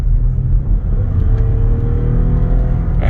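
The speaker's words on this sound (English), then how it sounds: "I'm gonna give it a little gas" A 2013 Lexus RX350 SUV accelerates while cruising, heard from inside as a steady low engine rumble and road hum rising gently under light throttle, smooth and continuous without voices.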